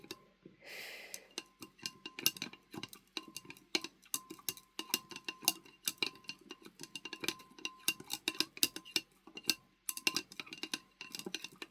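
Copper sulfate solution being stirred in a glass, producing rapid, irregular clinks and taps of a utensil against the glass, close and fairly quiet, continuing without pause across the whole span.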